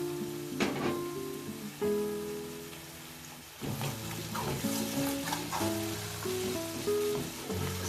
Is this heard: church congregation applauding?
no